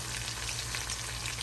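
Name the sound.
food frying in a pan before adding cabbage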